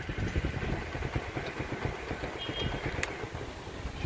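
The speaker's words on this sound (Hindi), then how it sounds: "आप शोर आ रहा है आपकी बाइक का" A motorcycle engine idles nearby with a low, steady mechanical rumble and faint irregular ticking, quiet and continuous with no talk over it.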